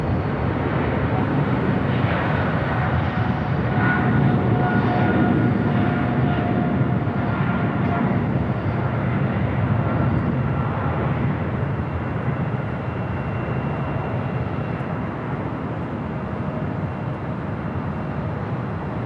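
A Swiss airliner on its takeoff roll down runway 25 right at Los Angeles International Airport, bound for Zurich, gives a steady, loud jet engine roar that holds for the whole stretch and eases slightly toward the end.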